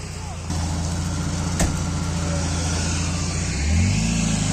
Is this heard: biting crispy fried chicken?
no